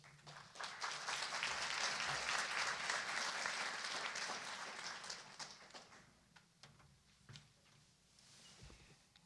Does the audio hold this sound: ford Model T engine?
no